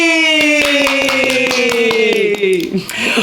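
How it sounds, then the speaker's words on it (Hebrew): Hands clap in a quick, steady run of sharp, close claps at an indoor chat show, while voices talk and hum over them. "נעשה כפיים"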